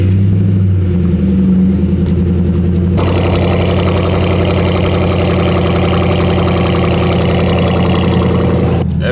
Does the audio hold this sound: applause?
no